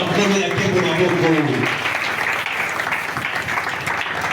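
A church congregation breaks into loud, sustained applause during a service, the steady broadband clapping following a voice at the start and continuing to the end.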